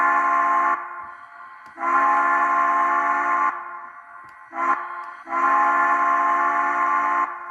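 A model steam locomotive's sound system plays from speakers in the boiler, with a loud whistle blowing in several long blasts and one short one, close and steady, with no talking.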